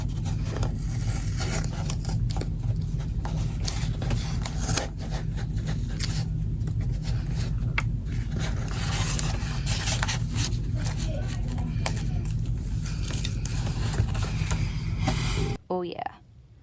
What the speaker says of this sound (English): I went ahead and peeled off the black tape, and I managed to get this satisfying shot for you guys